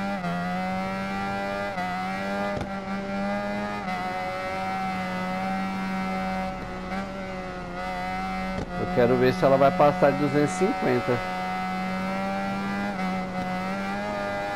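A 1988 Honda VFR 750R RC30 with a sport exhaust, ridden in Ride 4, drones in a steady high-revving buzz that dips briefly twice, while someone talks over it.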